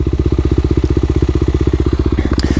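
A Kawasaki KLX250 dirt bike engine thumps at a fast, even pulse close by, a loud single-cylinder rhythm held steady, with a faint clatter near the end.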